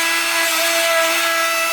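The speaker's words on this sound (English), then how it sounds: "barrel rolls are a lot more forgiving. Just got to work them a bit more." Abrasive barrel roll grinding a Chevy 372 engine block, a continuous high whine with steady tonal hum and gritty hiss, close and unbroken over the short span.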